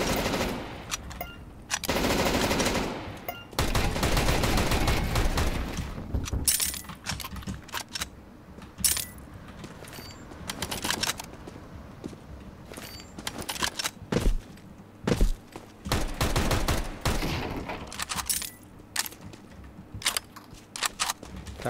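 Automatic turret gunfire in Counter-Strike: Global Offensive Danger Zone, loud rapid bursts with short pauses and scattered metallic clinks over about twenty seconds, no talking.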